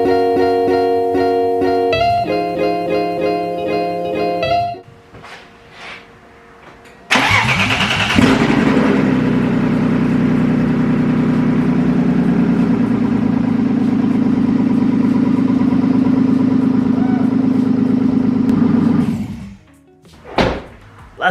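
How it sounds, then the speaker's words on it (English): A BMW E36 M3 engine is cranked with repeated chimes before it, then catches and roars to life, settling into a steady idle for over ten seconds before shutting off. "So now I think it's time for me to finally try to start the car again."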